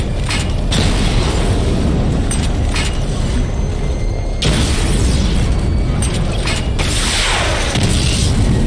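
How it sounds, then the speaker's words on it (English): Dense, loud missile barrage explosions in the video game Batman Arkham Knight, with a continuous roar of booms and bursts pounding close with no pauses. "Destroy targets to charge up weapon energy and activate missile barrage."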